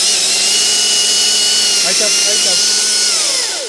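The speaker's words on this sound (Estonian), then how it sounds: "Appi, see on eriti võimas saak." Chainsaw cutting while felling a tree outdoors, a loud, close, sustained engine whine that wavers slightly in pitch, with a brief spoken word midway.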